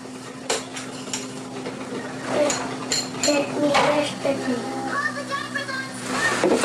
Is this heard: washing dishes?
yes